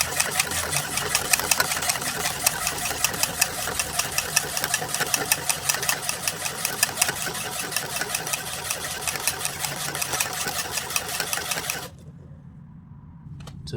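Wheat cake batter mixed with oil is beaten hard, making a rapid, steady mechanical rattling clatter close by that runs evenly and then stops, leaving near silence.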